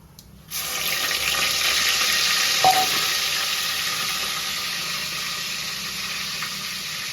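Cumin seeds dropped into hot oil for a mango dal, a sudden bright sizzle that starts after a half-second hush and keeps up as a dense, even crackle with a faint clink, fairly close.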